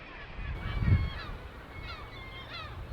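Seabirds on Skomer Island calling, a few honking, goose-like cries at moderate distance over a faint rushing background, one louder low burst near the start, no talking.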